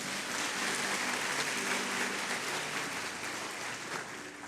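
A church congregation applauds loudly during a sermon, a steady, dense wash of clapping that holds for several seconds and eases slightly at the end, heard faintly with a low tonal hum beneath.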